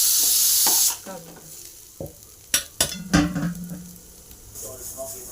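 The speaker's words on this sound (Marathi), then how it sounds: "आता इथं हे मसाला मी ह्याच्यात काढलाय." Fried red masala scooped out of a pan after the gas is switched off, a brief sizzle at first, then close spoon scrapes and metallic knocks against the pan and bowl.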